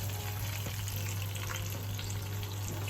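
Roast potatoes dropped into preheated hot oil sizzle and fry loudly and steadily, a dense close crackle with a low electrical hum underneath, with no talking over it.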